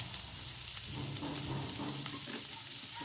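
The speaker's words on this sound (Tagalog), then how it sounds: "Igisa na natin mga kakusin ang bawang." Garlic sautés in oil in a pan with a steady, close, broadband sizzle and crackle that holds evenly throughout, with no talking.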